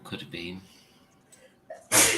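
A single sharp human sneeze bursts out at the end, loud and close, right after a few words of conversation.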